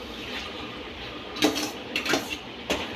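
Boiled pasta is stirred into masala in a pan, with a spoon clanking and scraping against the pan in three or four short, close bursts over a low steady background, and no one talking.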